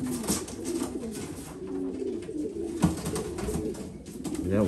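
Breeding-pen pigeons coo in soft repeated phrases while they scuffle, with wing flaps and scrapes and a sharp knock partway through, all close by and with no talk.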